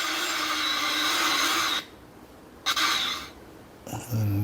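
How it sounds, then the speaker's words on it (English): A power drill whirs loudly and close while boring holes to mount a voltage regulator in a utility room during a house build in Thailand, running in bursts with short pauses between. "First they're going to install the voltage regulator, so we're just drilling to set up the mount."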